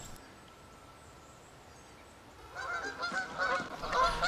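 Canada geese grouped on a lake honk in a rising chorus, faint at first and then louder and more numerous, layered over steady outdoor background noise.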